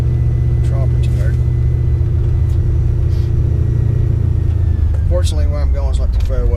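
A 1995 Ford Mustang GT's engine rumbles steadily at low pitch throughout while driving gently, a continuous drone; near the end, other voices or sounds rise briefly above it.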